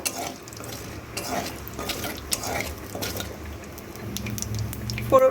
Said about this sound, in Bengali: দিয়ে একটু ভালো করে ফোড়নটাকে একটু নাড়াচাড়া করে নেব